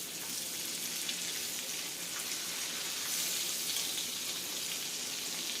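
Fish pieces pan-fry in hot oil with a steady, bright sizzle and crackle that holds evenly throughout, close and continuous with no voices.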